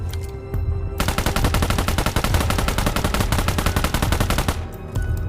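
A Honey Badger gun in the video game BGMI empties a full magazine in one rapid, unbroken burst of evenly spaced, loud gunshots lasting about three and a half seconds, then stops.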